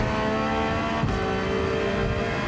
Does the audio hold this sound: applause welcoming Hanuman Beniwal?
no